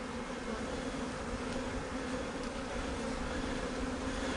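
Honeybees crawl and buzz inside a small queen cage, making a steady, close, continuous hum with no voices.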